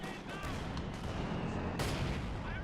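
Soviet Katyusha rocket barrage in a World War II real-time strategy battle against German forces, a dense rolling series of thuds and booms with a sharp strong burst near the end, steady and moderately loud without talk.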